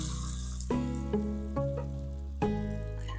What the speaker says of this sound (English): we're going to saute up our onions and garlic